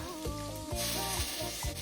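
Curry leaves frying in hot oil for a Sri Lankan chicken curry, a steady close sizzle with crackling bursts and stirring, no talk.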